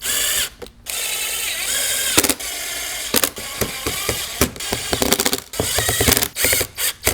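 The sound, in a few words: driving Phillips head screws to install speaker template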